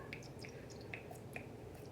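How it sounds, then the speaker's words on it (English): A spray bottle of moon water gives a few short, faint spritzes at an irregular pace, each a soft breathy burst against quiet room tone. "let's do a little moon spray"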